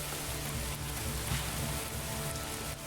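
Steady rain patters down over a small medieval town in Manor Lords, a dense, even wash of drops on roofs and ground with low rumbling underneath, constant and fairly loud throughout with no voices.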